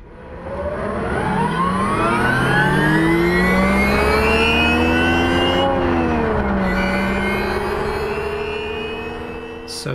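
An electric Porsche 911 running on Tesla batteries accelerates hard with a loud, close whine whose pitch rises steadily, eases briefly, then climbs again over about ten seconds; no voices.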